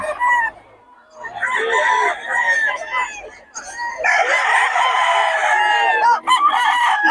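Several young gamecocks (stags) crow loudly and close by, one long cock-a-doodle-doo following another, with overlapping clucks and a voice briefly heard in between.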